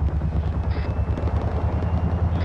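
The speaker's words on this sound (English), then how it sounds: "Everyone get in the chopper." A military helicopter in a video game operation thrums steadily with a loud, continuous low rotor beat close by.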